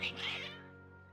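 Cats in Genshin Impact meowing and caterwauling, a loud, close drawn-out yowl that fades into a quieter tail.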